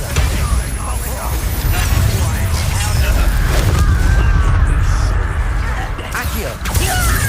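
Bombarda blast spell explosions in Hogwarts Legacy combat, a loud continuous roar of booming impacts and crashing debris under dense battle noise, with a voice talking over it.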